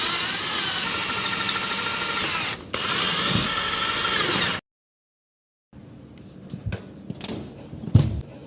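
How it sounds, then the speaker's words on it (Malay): A power drill drives a new screw into a plaster ceiling, whining loudly and steadily with a brief dip midway, then stops, followed by quieter handling clicks and knocks. "Kita tekan plaster siling ni dan sambil kita ikat skru baru"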